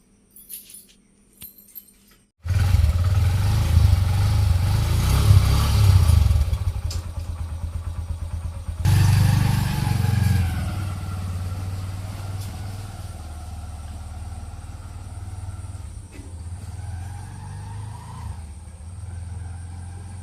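After a few light clinks, a motorcycle engine fires up loudly close by, revs for several seconds, then settles into a steady idle.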